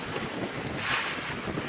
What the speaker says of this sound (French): Nous sommes en mer, avec un vent de force 15-20,